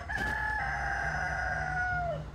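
A rooster crows loudly and close by in one long, drawn-out call that falls in pitch at the end, with a faint low hum underneath and no talking.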